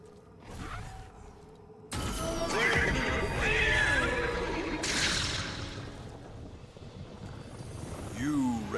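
A horse in the video game Destiny 2 neighs in loud, close whinnies amid mechanical creaks, clattering hooves and game effects, with a narrating voice speaking alongside.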